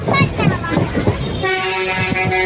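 A train stands at Tindivanam railway station, with rumbling and clatter under a speaking voice, then a steady sustained horn-like tone takes over in the second half.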